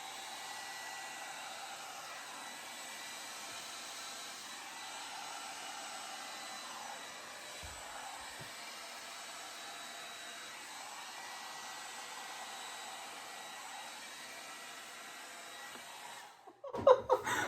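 Hair dryer blowing wet acrylic pour paint across a canvas, a steady airy whine held for many seconds at moderate level, then cutting off with a few close handling knocks at the end.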